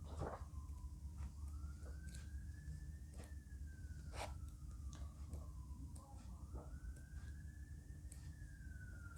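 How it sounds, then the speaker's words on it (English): A wailing police siren rises and falls in long sweeps in the distance in Manchester, steady over a low rumble of traffic, with a few faint knocks along the way. "with all the sirens in the background"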